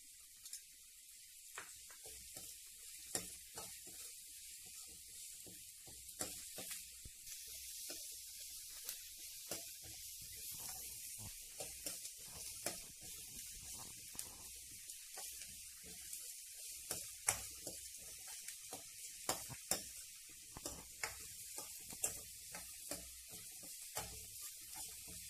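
Onions with a pinch of table salt frying in a pan, a steady soft sizzle with faint crackles running throughout, close and fairly quiet, with no talking.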